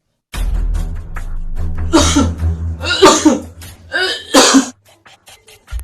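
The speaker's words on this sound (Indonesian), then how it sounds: "Batuk." A person coughs several times in a row, close and loud, with breathy voiced bursts between.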